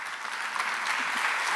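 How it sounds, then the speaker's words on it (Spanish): Conference audience applauding steadily for the whole stretch, a dense even wash of clapping with no voices on top. "un fuerte aplauso."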